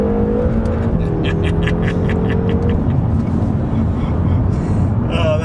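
A BMW M5 engine revs high through its range, a loud, continuous, rising drone heard from inside the car, with the pitch climbing steadily and voices talking over it.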